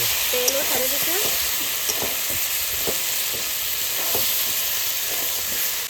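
Chicken with spices sizzling and being stir-fried in oil in a home kitchen, a constant loud hiss and crackle with occasional spatula scrapes and clicks against the pan.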